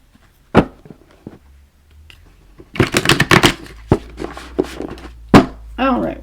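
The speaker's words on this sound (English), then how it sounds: "I kind of want to break these in a little bit with some hard shuffles." Rapid bursts of tarot cards being hard-shuffled, riffled and snapped together, loud and close, broken by a few sharp thumps and brief pauses.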